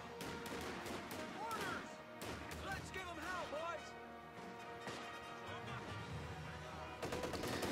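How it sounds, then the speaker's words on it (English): Bursts of MG34 machine gun fire from the real-time strategy game Company of Heroes 2 rattle under a steady commentator's voice, with scattered impacts and battle noise throughout. "MG34 are going to easily suppress these riflemen that are coming in."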